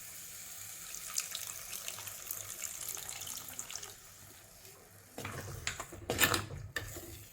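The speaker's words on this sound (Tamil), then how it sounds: "புளி தண்ணியும் கொஞ்சம் விடுறேன்." Tamarind water is poured into a pan of bitter gourd curry with a soft, steady trickle, then a louder splashing pour near the end, quiet and close.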